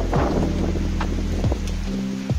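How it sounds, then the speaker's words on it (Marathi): Heavy rain pours over Rohida hill fort, a steady, dense outdoor wash of noise with wind buffeting the microphone and a few brief low rumbles throughout. "जोरदारसा पाऊस सुरू आहे गडावर."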